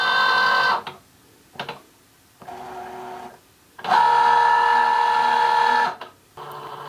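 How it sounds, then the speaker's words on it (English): A Cricut Joy Xtra cutting machine scans the registration marks on sticker paper for print then cut, giving several close, steady motor whirs and hums of varying length with short quiet gaps between them, and no one speaking. "The machine will first look for the registration boxes in each of the corners."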